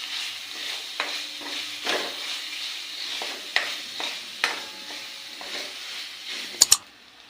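Chole masala mixed with chutney being stirred in a pan, soft scraping strokes over a faint sizzle, a few louder utensil clicks and a sharp double knock near the end, close and quiet with no speech.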